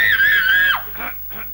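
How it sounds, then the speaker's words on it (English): A woman in a radio drama lets out one loud, sustained high scream that breaks off, followed by a couple of short gasping vocal sounds. "I heard a female voice screaming"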